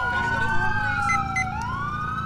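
An ambulance siren in the GTA IV video game wails steadily throughout, its tone sliding down and then rising again over a constant low engine rumble, loud and close.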